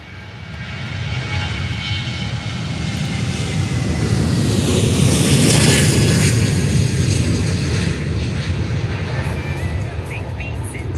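A Jet2 Holidays airliner roars past at Faro Airport, a loud broad jet engine rumble that swells to a peak mid-clip and then eases slightly, with wind buffeting the microphone.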